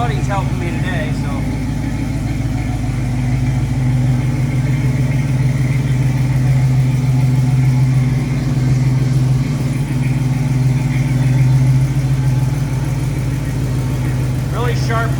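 A 1968 Chevrolet Camaro with a 327 V8 idles close by, a steady low rumble holding even throughout with slight swells, with faint clicks and handling noises at the start and end.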